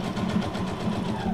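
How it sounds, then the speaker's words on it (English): A Brother SQ9185 computerized sewing machine stitching, a rapid even mechanical whir with regular needle pulses, close and steady through a short burst. "the whippersnapper is my brother SQ9185 computerized sewing machine"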